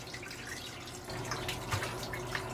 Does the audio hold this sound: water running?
yes